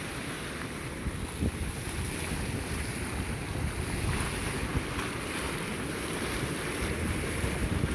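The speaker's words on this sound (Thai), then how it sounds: "ควันน้ำร้อนนะคะ ดูอันนี้พุ่งแรงมากเลย" Steam from a boiling hot spring, near 100 degrees, spouting hard: a steady, close, wind-like roar and hiss that holds without a break, with no voices.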